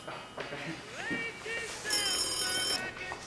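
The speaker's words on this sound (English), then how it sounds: "How about you answer the phone first?" A telephone rings in a comedy short film, bright electronic ringing tones sounding clearly over a voice talking nearby.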